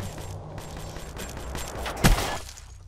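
Gunfire in the video game Black Ops 3 during a 2v2 match, a sharp loud shot standing out near the end over a steady game background hum; no talking.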